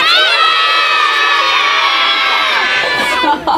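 A crowd of children at an outdoor nature festival shout their names all at once, a loud, sustained jumble of overlapping young voices that tails off near the end.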